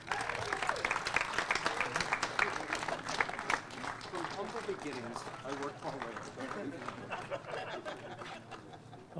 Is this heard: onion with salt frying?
no